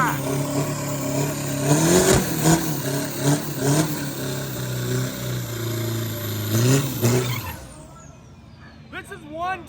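A 4-cylinder turbo diesel drag race car does a burnout at a Thai quarter-mile event, its engine roaring and revving hard with rising and falling pitch before the sound drops away near the end.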